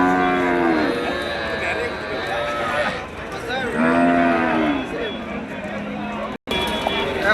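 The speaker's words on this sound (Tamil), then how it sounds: "மணப்பாறை காளை, வண்டி காளை, விவசாயத்துக்காகவும் நல்ல அருமையான காளைகள்." A Manapparai breed bull, a cart and farm bull, lows in several long, drawn-out calls that rise and fall, heard close by over steady outdoor background noise.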